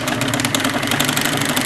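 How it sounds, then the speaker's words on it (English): A small steam engine runs to drive a brandy-dispensing machine, giving a loud, steady mechanical chugging and hum heard up close without talk. "to dispense the brandy out to the side here, we turn the steam engine on"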